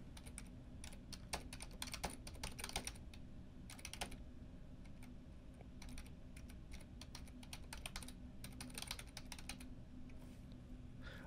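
Close, fairly quiet typing on a computer keyboard, with irregular bursts of key clicks and brief pauses, alone without any talking.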